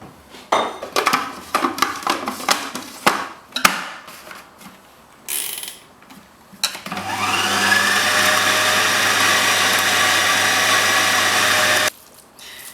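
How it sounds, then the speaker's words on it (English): Kitchen blender running on low speed, blending minced meat for kofta: a steady, loud motor whir with a grinding churn holds for about five seconds and then cuts off, preceded by scattered clicks and knocks of setting up. "So I'm just going to blend it on low setting for a minute or so"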